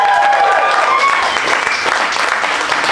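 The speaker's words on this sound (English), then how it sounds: "Can we just have one more massive round of applause for a big love and support?" A big round of applause from wedding guests at a ceremony, dense and loud from start to finish, with a few whoops and cheers rising through the clapping.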